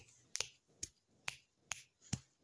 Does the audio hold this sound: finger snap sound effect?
yes